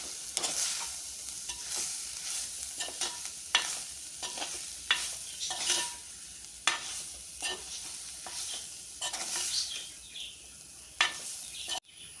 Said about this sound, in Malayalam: തേങ്ങയും ഇതിലേക്ക് തന്നെ ചേർക്കണം. നന്നായി യോജിപ്പിക്കുക.